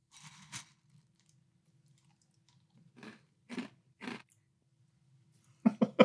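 Someone eats Great Value Caramel Apple cereal in a few short, separate crunchy bites, each close and fairly quiet, with silence between them and a quicker cluster of crunches at the end.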